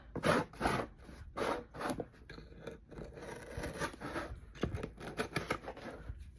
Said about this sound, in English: I just go through any pieces that are sticking out and just cut them off with a razor blade knife